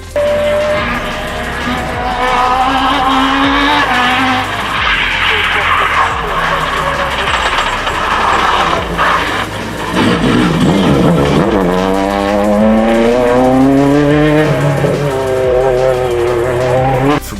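A Peugeot 106 Rallye on a rally stage skids with locked wheels, a long loud tire squeal and scrubbing rising over the engine for many seconds before the car regains grip.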